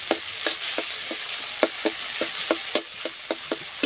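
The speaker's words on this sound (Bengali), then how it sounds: "যে কাঁকড়ার ঘিটা রেখেছিলাম সেই ঘিটা আমি দিয়ে দেবো। দিয়ে একটু ভেজে নেব আলাদা করে" Crab fat frying in oil in a pan for a spicy crab curry, a bright steady sizzle broken by regular sharp scrapes of a spatula, close and alone without speech.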